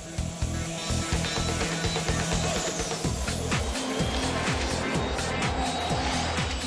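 A motorcycle and a low-flying jet plane race side by side in an acceleration test, producing a loud, continuous roar with rising engine revs and shifting pitch, close and sustained throughout.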